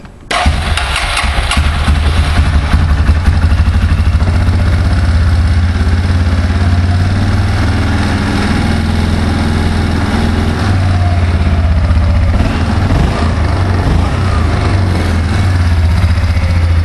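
A 2004 Yamaha Bruin 350 ATV engine starts and settles into a loud, steady single-cylinder idle, close and continuous with a low thumping throb throughout.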